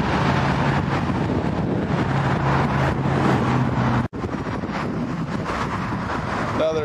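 Wind buffets an outdoor microphone in a steady, rough rumble that stays loud throughout, with a brief dropout partway and a faint voice underneath.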